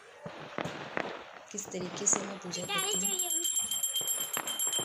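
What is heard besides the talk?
firecrackers bursting outside during Karva Chauth puja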